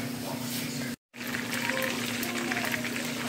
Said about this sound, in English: We just added a little water to the fish